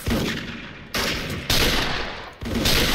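An MSG-90 DMR rifle in the shooter Special Force fires four loud, sharp shots at uneven intervals, each leaving a short decaying tail.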